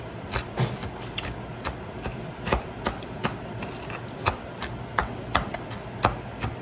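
A knife chops cooked bacon into small crumbs, with steady, evenly spaced sharp taps close by over a quiet background and no talking.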